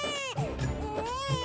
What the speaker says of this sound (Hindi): हाँ, छोटा बच्चा रो रहा है।